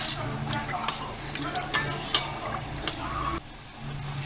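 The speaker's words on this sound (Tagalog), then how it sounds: "Ilalagay po natin yung dugo at gata. Ito mix." Blood and coconut milk being stirred into a cooking pot on a Filipino home stove, a steady bubbling sizzle with scattered utensil scrapes and clinks against the pot, close and continuous, then a brief drop in loudness near the end.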